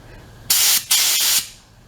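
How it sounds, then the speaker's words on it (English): Compressed air blasts through a hydraulic hose to clear out rubber and metal debris, two loud hissing bursts of close spray with a short gap between them, standing alone with no talk. "Just blow it through and just make sure there's no rubber or any kind of metal in there."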